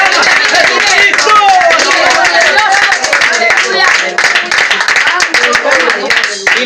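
Congregation clapping steadily at a home church service in San Agustín, Caracas, with voices calling out over the applause throughout.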